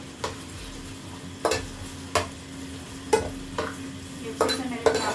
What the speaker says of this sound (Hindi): ये अच्छे से मेरे चावल जो हैं वो फ्राई होने शुरू हो गए